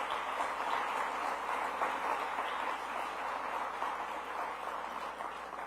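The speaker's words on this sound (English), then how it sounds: "Please give them a big round of applause." Sustained applause from a downtown economic forum audience for the downtown business improvement district team, a thick wash of many hands clapping, steady and somewhat distant throughout.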